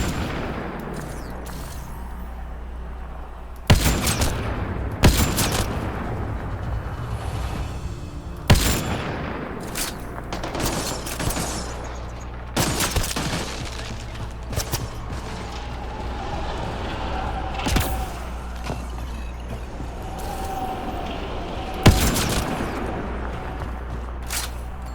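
Sharp gunshots and heavy blasts ring out at irregular intervals amid mechanical clanks during a shootout in Mass Effect: Andromeda, where a shuttle's fuel source is shot and ignites; loud bursts stand out over a low rumbling background.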